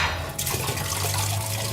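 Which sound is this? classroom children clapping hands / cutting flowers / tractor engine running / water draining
water draining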